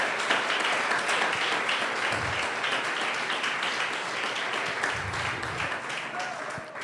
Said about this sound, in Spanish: Denle un fuerte aplauso a ese Dios grande